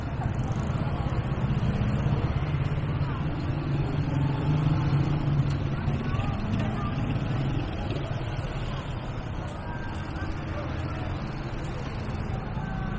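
Evening street traffic on Clark in Angeles City on a Tuesday around seven, a steady wash of passing cars and engines rumbling continuously at moderate distance without a break.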